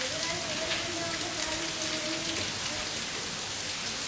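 Steady rain falls and patters on surfaces, a dense continuous hiss filling the whole stretch with a faint voice-like tone underneath early on.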